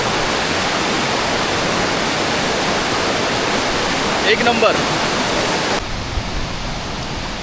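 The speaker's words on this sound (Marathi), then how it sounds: "पाणी प्रचंड वेगानं वाहतं आहे" Fast-flowing waterfall beyond Anuskura ghat roars as a steady, dense broadband rush filling the whole clip, with someone briefly speaking over it near the end.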